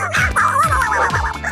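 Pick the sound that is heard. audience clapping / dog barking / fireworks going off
dog barking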